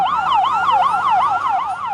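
An ambulance siren wails in a fast, rapidly rising and falling yelp, loud and close, repeating continuously without voices.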